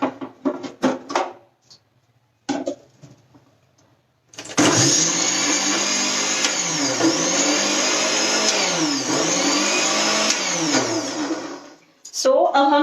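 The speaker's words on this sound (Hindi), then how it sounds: "एक बार और हम इसको ग्राइंड कर लेंगे" A mixer grinder whirs loudly and steadily for about eight seconds, grinding cooked puran (sweet lentil filling) into a paste for puran poli, with brief knocks and handling sounds before and after.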